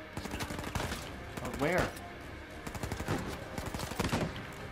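Rapid bursts of sniper and automatic gunfire crackle through an Uncharted 4 firefight, sharp repeated cracks layered with game effects while players talk over the action.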